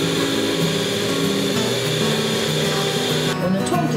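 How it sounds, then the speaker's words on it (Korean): A hand mixer whips eggs and sugar for a homemade chocolate génoise cake batter, a steady loud motor whine with shifting pitch, while people talk over it. "달걀, 설탕을 넣고 핸드믹서로 휘핑합니다."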